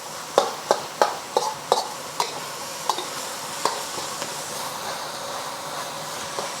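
Meat with ginger and garlic fries in a pan as it is broken up and stirred, a series of sharp scraping strokes over a steady, soft sizzle that thins out toward the end.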